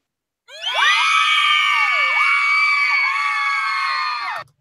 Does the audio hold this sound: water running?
no